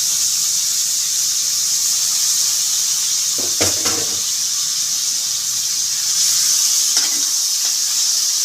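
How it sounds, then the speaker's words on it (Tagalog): Salted pork pieces sizzle and hiss steadily in a hot pan for pakbet, with a few brief clanks and scrapes of stirring breaking through the constant frying noise. "Iprito muna natin siya ng konti."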